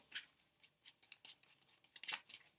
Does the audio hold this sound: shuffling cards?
yes